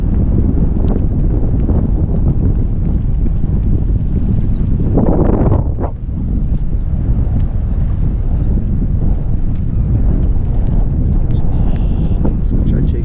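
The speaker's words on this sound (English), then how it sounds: "Wind is picking up" Steady, loud wind buffeting the microphone with a constant roar while out on the water in a kayak, broken by a brief gust-like surge and a short dip midway.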